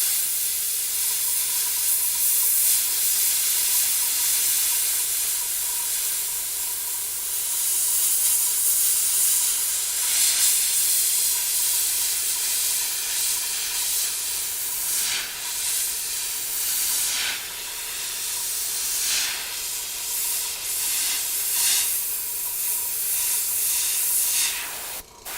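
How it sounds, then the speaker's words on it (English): An airbrush sprays Alpha Air paint in a steady, close, continuous hiss that keeps going without a break, with brief dips and surges as the trigger and the spraying angle change. "I'm trying to be as accurate as possible with the airbrush here."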